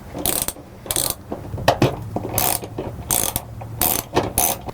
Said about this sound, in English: Now we're going to use a 10mm socket and remove these two bolts here that hold the handle in place.